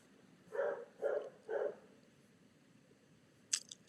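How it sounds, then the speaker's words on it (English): A dog barks three times in quick succession, moderately close, in a quiet room, followed by a short sharp click and then near silence. "I'm gonna close the door because the dog keeps barking"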